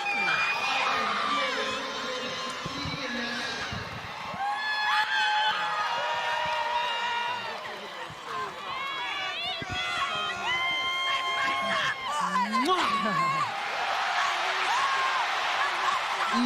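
A boxing arena crowd cheers and shouts loudly after a fight win, a dense roar with whistles and screams, heard under an interviewer's talk.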